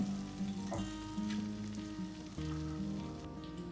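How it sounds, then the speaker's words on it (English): Butter and shallot sizzle gently in a pan, a soft, continuous crackle with a few brief clicks and a faint steady hum beneath, close by but quiet. "we're gonna let the butter and the shallot brown just a little bit."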